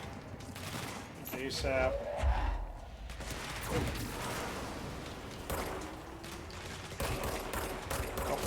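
Rapid bursts of gunfire from the action game Control, several shots cracking in quick succession amid a busy in-game fight against grenadiers, with someone talking over parts of it.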